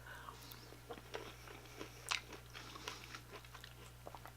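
Close, quiet bites and chewing of a salad with avocado and citrus, soft crunches and wet mouth sounds scattered over a low steady hum, with one sharper crunch near the middle.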